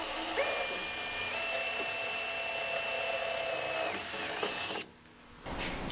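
A high-pitched power drill whines steadily while boring out rivets along the bottom of a car's rear floor, the pitch shifting as the bit bites, then cuts off abruptly before a brief restart.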